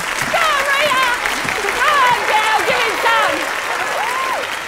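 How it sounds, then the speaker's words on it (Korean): An audience applauds as a factory-worker singer takes the stage in wartime Britain: a continuous wash of clapping under a speaking voice that runs through the whole stretch. "박수를 받으며"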